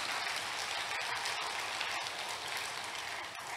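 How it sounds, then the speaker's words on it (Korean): A church congregation applauds during a Sunday sermon, sustained broadband clapping from many hands that fills the room evenly for several seconds without pause. "박수"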